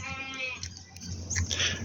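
A goat at a petting zoo bleats close by with a quavering cry at the start. Thumps, rustling and brief noises from other animals follow, with no clear talking.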